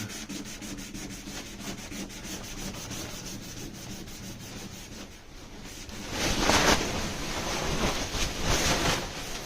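Wet hand sanding with a pad on the painted body of a VW Type 2 camper makes a steady rhythmic rasping scrub, growing louder and busier midway, close up with no talking.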